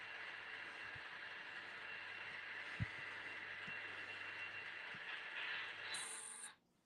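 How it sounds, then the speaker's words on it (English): An HO-scale model train with a first- or second-generation Alco locomotive approaches as a faint, steady rumble and hum. A brief click sounds partway through, and the noise cuts out abruptly near the end. "I think I hear it approaching. Sounds like a first or second generation Alco."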